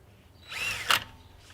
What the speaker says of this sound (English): Then you can use the bad boy drill.